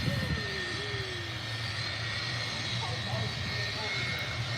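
A plane taxis and turns off the runway at Manchester Airport, its engine a steady, distant roar with a thin whine on top that holds through the whole stretch.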